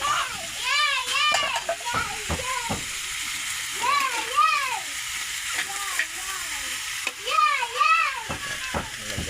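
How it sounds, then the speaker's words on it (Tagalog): Adobo cooks in a pan with a steady sizzle and occasional stirring clatter, while people talk nearby throughout. "Lutuin natin dito guys, adobo guys."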